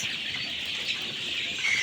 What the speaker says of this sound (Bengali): মিশরি পাওমি মুরগির বাচ্চা